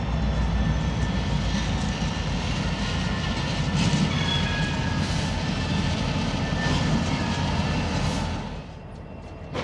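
A freight locomotive drones steadily while switching corn syrup tank cars at a customer siding, a loud sustained rumble with faint squeals and clanks that eases off near the end.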